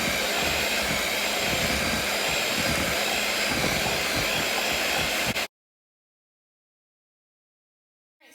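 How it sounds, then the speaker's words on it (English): A handheld electric mixer beats eggs in a bowl, its steady high whine running loud and close for about five seconds before it switches off abruptly into near silence. "Now I'm just gonna go in with my hand mixer and mix all this"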